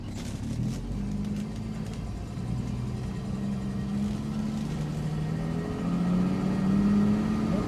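A 1967 Mustang with a newly installed timing chain accelerates on a test drive, the engine's drone climbing slowly and steadily in pitch as it labours and then picks up speed, close and continuous, with no voices.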